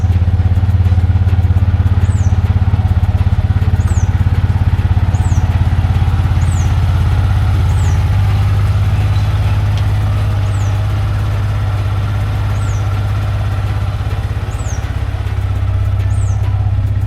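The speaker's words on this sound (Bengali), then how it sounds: "বাইক কোল্ড স্টার্টের জন্য রেডি হচ্ছে।" A Yamaha motorcycle idles after a cold start on a foggy morning. The deep, steady engine drone is loud and close, with faint regular chirps repeating over it and no speech.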